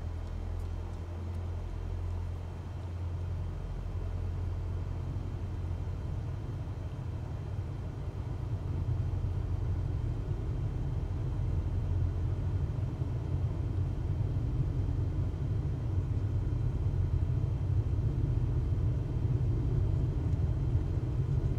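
Low steady engine rumble of a Cessna 172 at full throttle on the takeoff roll in Microsoft Flight Simulator 2024, droning continuously and growing slightly louder midway, with no voices.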